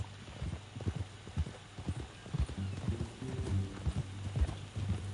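Horse hooves clip-clop in a steady uneven rhythm in a video game, close and clear, with low engine-like hum and occasional faint voices beneath.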